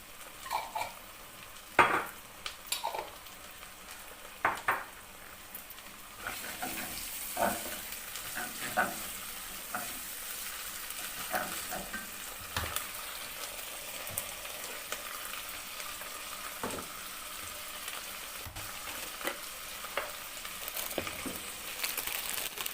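Garlic and ginger paste frying in a pan, sizzling steadily with scattered stirring scrapes and small utensil knocks, the hiss growing fuller after the first few seconds.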